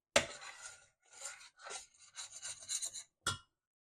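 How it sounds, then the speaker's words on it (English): A spoon stirring thick dal and rice in a pot, scraping the bottom in several rough strokes of uneven length with short pauses between them, close and fairly loud. "I have been stirring it quite a bit now because I don't want to get stuck to the bottom."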